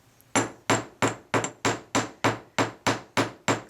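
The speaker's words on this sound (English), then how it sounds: "you also want to make sure that you come straight down with the hammer" Ten evenly spaced sharp metallic hammer strikes on jewelry wire ring out one after another in a steady rhythm, close and clear with nothing else underneath.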